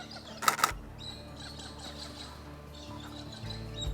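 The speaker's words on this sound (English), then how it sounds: "And there's some birds here as well" Birds chirp at a riverside camp on the Murray River, with a brief burst of close, bright calls early on and then faint, scattered tweets over steady low background hum.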